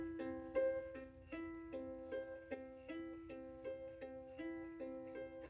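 Fingerpicked guitar in an alternating pattern, thumb then pointer, thumb then middle finger, giving an even repeating cycle of plucked notes, quiet and close with no talking.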